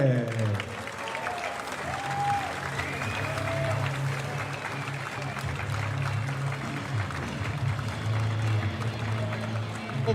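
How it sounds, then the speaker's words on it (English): Crowd applause and cheering for a left-arm super heavyweight arm wrestler at an East vs West event, a broad sustained roar with a low steady hum underneath and music-like tones drifting through. "Please give a round of applause for the Golden Dragon, Kamil Jablonski!"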